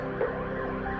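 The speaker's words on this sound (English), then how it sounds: "Oh, an emergency ambulance." An emergency ambulance siren on a road, heard as a steady wailing tone throughout a brief moment, fairly close and without talk over it.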